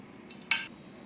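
Fried brinjal pieces are dropped into mustard paste in a pan, giving one brief metallic clink and scrape of utensil against the pan in an otherwise quiet kitchen.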